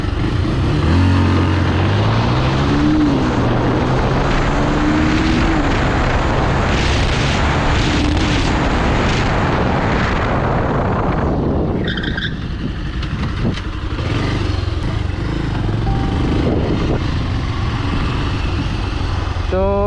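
A Bajaj Pulsar 180 motorcycle accelerates hard through the gears during a speed test on a road, its loud engine note climbing in pitch, dropping at gear changes and rising again, with wind rush throughout.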